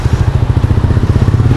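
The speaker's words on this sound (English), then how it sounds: "Thump of the engine is better." Goan Classic 350 motorcycle engine with a rapid, even low thump and exhaust note, loud and close, pulsing steadily with no voices.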